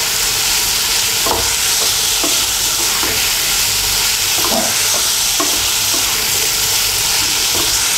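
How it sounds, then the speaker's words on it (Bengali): Turmeric powder being stirred into food frying in a pan for lau'er khosha bhaja, a loud continuous sizzle with soft periodic scraping strokes of a spatula, close up and without voices. "হলুদের গুঁড়োটাকে মিশিয়ে নেব।"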